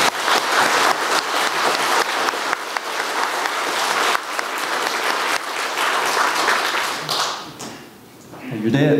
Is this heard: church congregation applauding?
yes